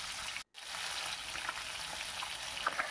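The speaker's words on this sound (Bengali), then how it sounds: "দেখুন বেশ সুন্দর করে মাছটাকে আমি ভেজে নিচ্ছি।" Small rohu fish frying in oil, a close, continuous crackling sizzle with a brief gap early on and light spatters throughout, no voices.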